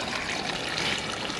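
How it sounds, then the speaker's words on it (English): Historic spring in Missouri, its water welling up from unknown underground sources and flowing steadily, a soft continuous trickle and burble heard close and alone for a short stretch. "The spring flows from sources underground that are not known."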